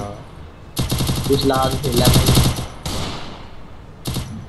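Automatic gunfire bursts in the mobile shooter Free Fire: a long rapid burst followed by two shorter bursts, loud and close, with a player speaking briefly over the game sound.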